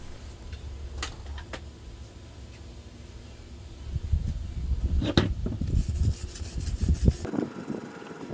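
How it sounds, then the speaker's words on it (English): A small wire brush scrubs a BMW rear brake caliper bracket, starting as faint scratching over low rumble, then turning into louder, rapid rasping strokes. "A small wire brush would do great to clean behind the hardware."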